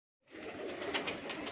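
Tournament pigeons in a large home loft in Mumbai coo softly in a continuous low chorus, faint and distant, with no voices over them.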